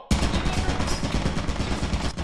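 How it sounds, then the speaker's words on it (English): Automated turret in the video game Lethal Company opening fire: a sudden, loud, rapid burst of gunfire that starts abruptly and rattles on continuously at close range, with no talk over it. "Oh, turret!"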